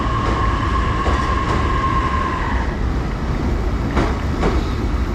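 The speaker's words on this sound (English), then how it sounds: "That's the train that's going into Tokyo." A train bound for Tokyo rumbles steadily close by at a station, with a high metallic whine in the first half and brief clanks near the end.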